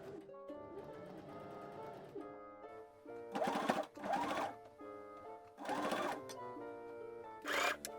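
A sewing machine stitches the waistband of 18th-century-style breeches in short runs of whirring, rattling mechanism, separated by brief pauses, close by and moderately loud with no talking.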